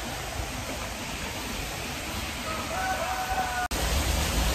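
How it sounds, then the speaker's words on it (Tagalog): Steady, loud rush of splashing swimming pool water fills the whole stretch, with a brief dropout near the end. "Naririnig nyo na ang tubig."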